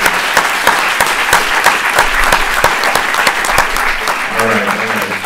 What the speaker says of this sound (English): One more round of applause for Dorsey and all the work that you've done.